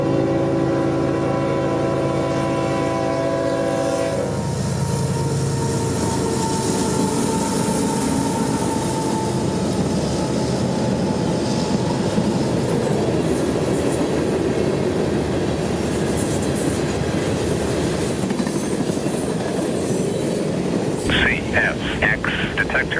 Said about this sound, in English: 452 would race north with 5 locomotives as advertised